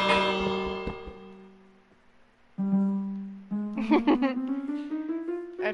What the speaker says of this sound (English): I gave you bells!